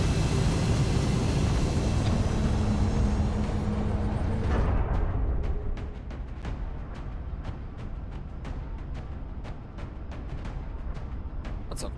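Aircraft flight in XCOM: Enemy Unknown: a steady, full engine drone that thins out about halfway through into a lighter hum, with a run of short ticking clicks over it. No voices.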